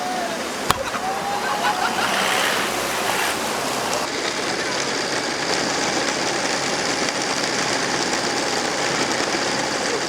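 Floodwater rushing through a submerged area where houses are flooded and vehicles sit underwater: a steady, dense roar of flowing water across the whole stretch, with a sharp knock near the start.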